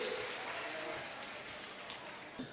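Audience applause welcoming Darshan Lohar of Ratlam, Madhya Pradesh, at a Bageshwar Dham gathering: a dense, steady hiss of many hands clapping throughout, fairly distant and even, with a slight swell near the end.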